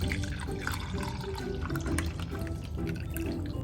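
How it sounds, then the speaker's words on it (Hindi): Rosemary and mint water being strained, a steady trickling pour of liquid running continuously and close by, with faint dripping mixed in and no talking. "जब आपका रोजमेरी और मिंट का पानी ठंडा हो जाए तो आप उसे स्ट्रेन कर लें इस तरह से।"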